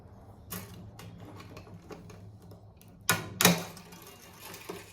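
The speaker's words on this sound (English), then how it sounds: "now I'm just gonna snip them" Loosened guitar strings are cut with a snipping tool, giving a few sharp metallic snaps spread apart, with two close together, over a quiet background.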